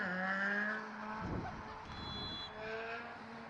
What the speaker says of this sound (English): You can hear the traffic on the canal route behind us